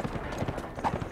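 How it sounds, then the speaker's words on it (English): A horse in The Escapists 2 clip-clops with quick, rhythmic hoof beats, close and clear. "Horsey!"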